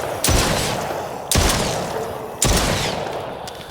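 Gunfire in the VR shooter game The Brookhaven Experiment comes as three sharp, loud blasts about a second apart. Each one decays into a fading echo, with no talk over it.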